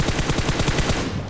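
PUBG Mobile gunfire from a suppressed S12K on a military base, a fast loud burst of about ten rapid shots in an even rhythm, close and unbroken before cutting off.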